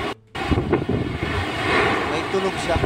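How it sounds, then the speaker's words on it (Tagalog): Strong typhoon wind in Catanduanes roars and howls steadily and loudly, a dense rushing noise after a brief dip near the start, with a voice speaking over it. "Nananaghoy yung hangin."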